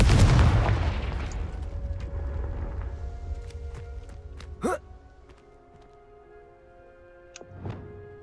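A Confringo blasting spell detonates in Hogwarts Legacy as a loud booming explosion, then a long rumbling decay, with a sharp magical whoosh and faint sparkling effects trailing after.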